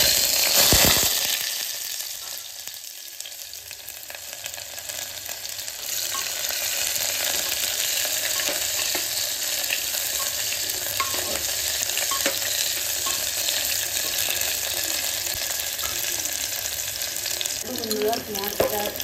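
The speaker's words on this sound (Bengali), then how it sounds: "কুকারে তেল বসিয়ে দিয়েছি, একটু কালো জিরে দিয়ে দিলাম, একটু পেঁয়াজ।" Onion and nigella seeds frying in hot oil inside a pressure cooker give a steady, close sizzle that holds for the whole stretch, with faint clinks and scraping now and then.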